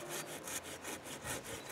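A small hand saw cuts through wood in quiet, rhythmic back-and-forth strokes, about five even rasping pulls heard faintly and alone.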